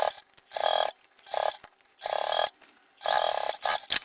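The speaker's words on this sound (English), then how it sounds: "And then we're just gonna stitch over this hole." A sewing machine stitches along the very edge of a denim purse in four short bursts of rapid mechanical whirring, each separated by brief quiet pauses.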